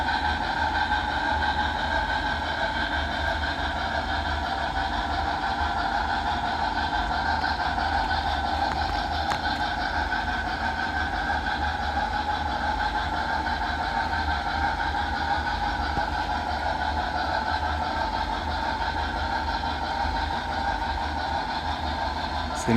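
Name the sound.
BLI 2-8-2 model locomotive running on a layout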